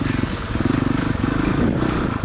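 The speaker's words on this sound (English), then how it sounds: "Note that you have to pull the clutch in order to get that electric start going." A 2018 Honda CRF 450R dirt bike firing up on its electric start and settling into a loud, close, steady four-stroke idle with a throbbing low rumble.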